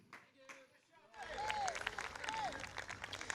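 Audience applause at an outdoor community concert on a town common. Someone speaks briefly, then crowd clapping swells and continues steadily, with a few whoops and a voice over it.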